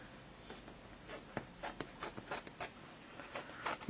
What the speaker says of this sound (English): I'm just going to cut out a little square here to get the rest of it out of the way so you can see.